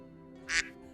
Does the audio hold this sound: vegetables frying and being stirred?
no